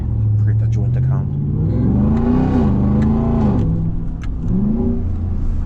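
Supercharged RAM TRX pickup engine revving hard through gear shifts, a loud close rumble with rising pitch sweeps and dips at each shift, with people talking over it inside the cab.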